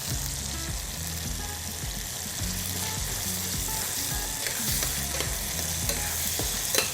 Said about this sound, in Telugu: ఇప్పుడు అల్లం వెల్లుల్లి పేస్ట్ వేసుకుందాం.